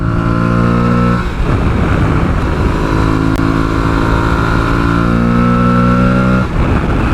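A loud, close Aprilia 660 parallel-twin adventure motorcycle engine drones steadily under throttle with a strong harmonic hum. It shifts pitch briefly around a gear change and then holds a sustained high rev with no speech.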